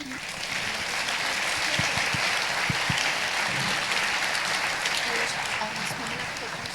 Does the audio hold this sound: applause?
yes